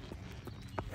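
An American Quarter Horse gelding, 16.1 hands, walking under a rider with a steady clip-clop of hooves on firm ground, several evenly spaced footfalls close by over a continuous low outdoor rumble.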